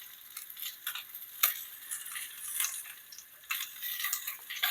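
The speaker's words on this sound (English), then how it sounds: "I like heating up my oil first before putting my onions." Onions frying in hot oil in a home kitchen, a faint, thin sizzle with soft ticking bursts, quiet and steady with no talking.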